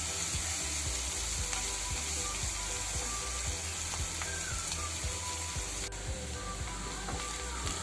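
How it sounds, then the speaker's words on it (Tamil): Onions and dried red chillies fry in oil in a pan with a steady, dense sizzle, close and constant, broken by soft regular stirring taps and scrapes; nobody speaks. "வெங்காயம் கொஞ்சம் வதங்கினோன்னே வரமிளகாய் போட்டு நல்லா வதக்கிடுவோம்."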